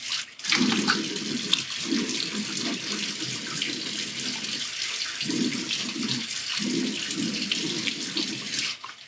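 Tap water runs steadily from a sink faucet as a face is rinsed after a shave with a brass safety razor. The flow is close and continuous, with short breaks and splashes as hands cup the water, and nobody speaks.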